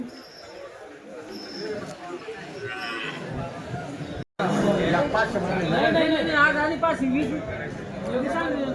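An HF cow with her calf at the Dhule cattle market lows loudly and repeatedly, close by, over busy crowd chatter and people talking; a short dropout breaks the sound midway.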